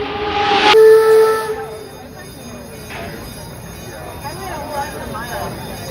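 A theme park steam train at Busch Gardens Williamsburg gives a loud, sharp whistle blast, then steam hisses and chuffs fade into a softer background with faint voices nearby.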